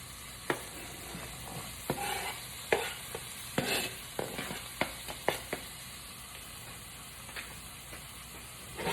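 Onions sizzle quietly in a cooking pot while a spoon scrapes and stirs, giving sharp irregular clacks against a steady low frying hiss, with no talking.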